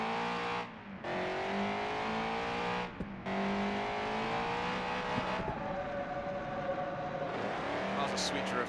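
A race car in a racing video game drifts through corners, its engine revving and wavering in pitch with tire squeal mixed in, loud and continuous with brief dropouts, while a person talks over it.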